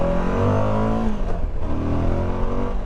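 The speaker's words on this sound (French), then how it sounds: "tu le sens le moteur, hein. Il est là, il vibre." A Suzuki V-Strom 1050 motorcycle engine revving up with a loud, steady roar that dips briefly, then builds again, close by and without speech.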